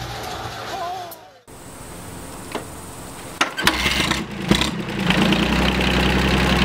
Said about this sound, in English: there's an engine type synonymous with raw power, monstrous torque, and fuel efficiency, the diesel engine.